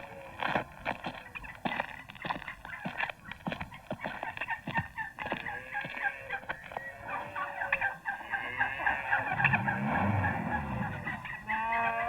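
Pre-recorded farm animal sound effects, with turkeys gobbling in repeated bursts amid a busy, layered barnyard clamour, moderately loud and continuous with no speech.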